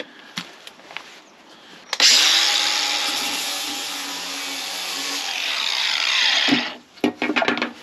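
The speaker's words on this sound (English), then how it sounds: "using just like a sanding disc, just go over the area that you're going to use" A power sanding disc whirs loudly against a metal flange for about five seconds, grinding steadily before winding down. A few clicks come before and after.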